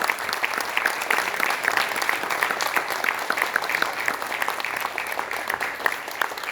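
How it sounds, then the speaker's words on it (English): Audience at a ceremonial trade event between Brazil and India applauding, a dense, sustained round of clapping from a large crowd that holds steady throughout. "Ladies and gentlemen, a huge round of applause."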